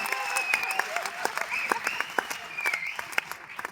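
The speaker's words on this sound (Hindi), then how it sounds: "एक बार जोरदार तालियां बजाइए" An audience applauds at a Hindi comedy poetry gathering in Chennai, a dense, steady burst of many hands clapping close and loud, with a few sharper individual claps standing out.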